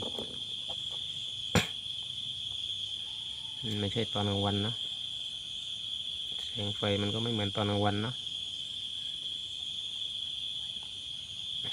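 Crickets chirring in a steady high-pitched drone throughout, while a person talks in short bursts over it.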